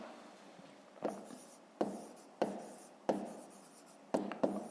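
A pen writes on paper during a fifth-grade maths exercise, giving close, soft scratchy strokes in short bursts with brief pauses between them.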